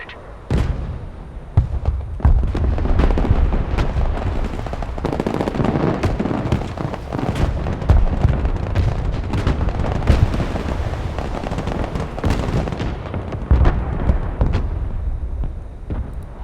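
Abrams tank cannon fire in the Broken Arrow video game, with dense repeated booms and blasts over a continuous loud rumble of battle, sharp impacts recurring throughout.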